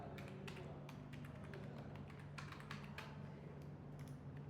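Quick, quiet keystrokes tap out a username on a computer keyboard in an irregular stream of clicks over a low steady background hum.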